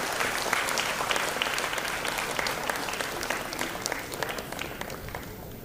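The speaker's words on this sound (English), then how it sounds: "May I request a round of applause for all the achievers and winners for today" An audience at a university convocation ceremony gives a round of applause for achievers and winners, a continuous crowded clapping that holds steady and thins slightly toward the end.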